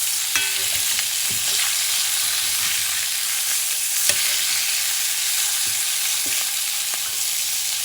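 Duck breast frying skin side down in its own rendered fat, a steady close crackling sizzle with scattered sharp pops and spits throughout, with no talk over it.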